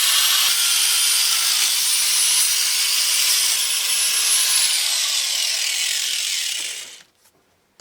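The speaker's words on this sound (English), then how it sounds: "so I asked him to cut that stud off." A power saw cuts off a metal stud beneath a bus, a loud, steady, harsh grinding whine running for about six and a half seconds before cutting out abruptly into near silence.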